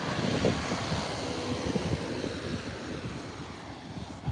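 Gusty wind buffeting the microphone outdoors, a steady rushing roar with low thumps throughout.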